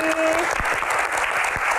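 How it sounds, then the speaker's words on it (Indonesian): Studio panelists applauding on a television Q&A show, a short steady patter of clapping throughout, fairly close and even in volume. "Dan teman-teman panelis tepuk tangan juga."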